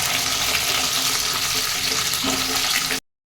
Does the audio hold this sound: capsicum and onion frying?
yes